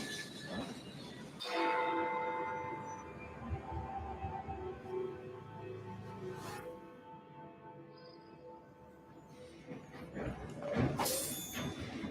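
A steam-era train in Victorian London from the video game Assassin's Creed: Syndicate hums and rumbles steadily at moderate distance, with a sharp burst of hissing or clanking near the start and another toward the end.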